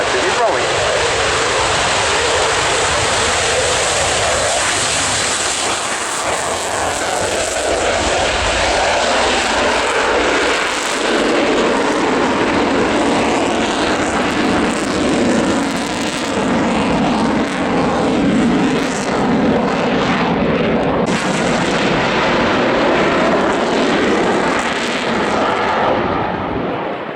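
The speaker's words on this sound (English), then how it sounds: "But stand by now, the Typhoon is rolling." A Eurofighter Typhoon jet rolls for takeoff at the Royal International Air Tattoo at Fairford in 2013, its engines a loud, sustained roar that swells and holds for many seconds, with public-address talk faintly underneath.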